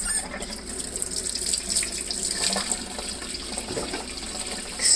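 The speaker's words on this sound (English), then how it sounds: "wash your hands, kids." Hands get washed under a running kitchen tap during pie-crust baking, a close, steady stream of splashing water that swells briefly at the end, with no talking.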